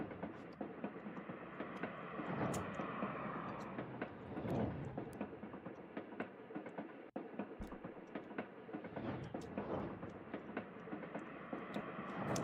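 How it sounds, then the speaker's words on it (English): Video game train running continuously, a steady rolling rumble with rhythmic clickety-clack of railcars, loud and even throughout with a brief dip midway. "If it's too much train sounds, you know?"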